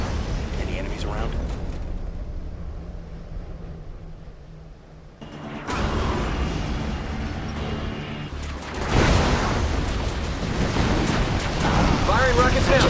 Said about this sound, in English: Firing rockets now, sir.